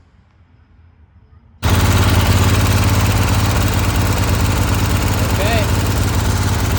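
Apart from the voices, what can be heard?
Scag Turf Tiger 2 mower replacement carbureted engine running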